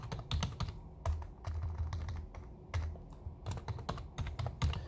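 Code is typed on a computer keyboard in fast, clattering bursts of close keystrokes, with short pauses between runs of keys.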